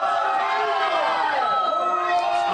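A crowd in a diner cheers and whoops together, a continuous loud mass of overlapping voices with shouts rising and falling for a couple of seconds.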